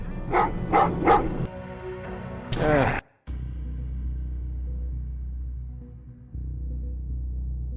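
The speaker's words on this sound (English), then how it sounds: "Oh, what's with the dogs?" Dogs bark in the Terminator Resistance video game: a few sharp, loud barks in the first second, then a brief noisy burst before a steady low rumble settles in and carries through to the end.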